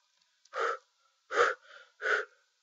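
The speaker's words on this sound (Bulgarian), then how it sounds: "Задъхан съм." Heavy, out-of-breath panting: three loud, close gasping breaths with short pauses between them, alone without talk, voiced during play of the game Happy Wheels.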